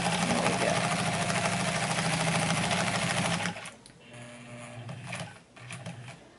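A vintage circa-1953 Singer 306W sewing machine runs steadily on its widest stitch setting, a close, even mechanical whir for about three and a half seconds before stopping, leaving quieter handling noises.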